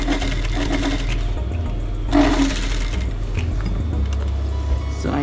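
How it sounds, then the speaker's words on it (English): A sewing machine runs steadily up close as it stitches down a side seam over elastic. The motor drone is continuous throughout, with a faint knock partway through. "I go to my seam, my side seams or my back seam, and I just stitch it."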